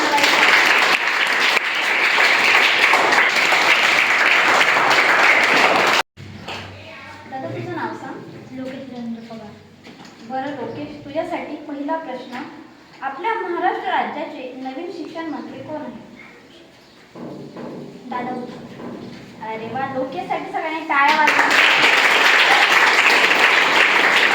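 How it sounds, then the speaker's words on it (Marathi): Applause for a student answering correctly at a school quiz at New English School Padalde: a full burst of clapping, then a spell of talking, then the clapping returns loudly near the end. "आराध्यासाठी परत एकदा टाळ्या"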